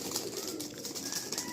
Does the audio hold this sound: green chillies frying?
no